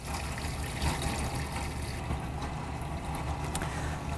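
A hose runs water into a groundwater simulator unit set up next to a sink, giving a steady rushing, splashing wash of water that holds evenly throughout with no voices.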